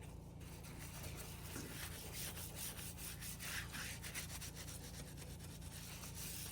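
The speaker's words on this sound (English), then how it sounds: "we're just going to simply tissue the excess" Soft tissue rubbing and wiping excess waxing prep product off skin, a steady close brushing friction that runs throughout with no voices.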